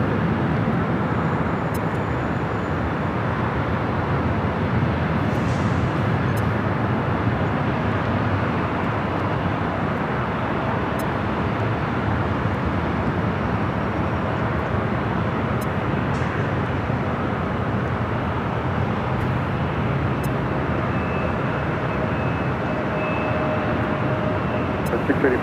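Airliner departing runway 24 left at Los Angeles International Airport, a broad steady jet roar sustained the whole time at moderate distance, with faint chatter in the background.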